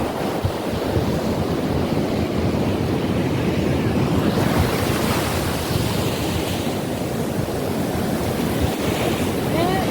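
Sea waves roll in at Nagoa beach in Diu as a loud, continuous close-up rush of surf, with wind noise buffeting the microphone throughout.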